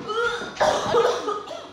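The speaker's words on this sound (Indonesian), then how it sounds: "Waduh, batuk-batuk ini." A few close, harsh coughs come in quick bursts, one after another.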